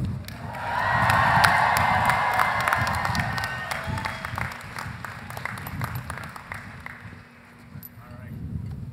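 Loud applause and cheering from a large commencement crowd for the Montgomery College class of 2022, a dense wash of clapping that swells early and then slowly thins.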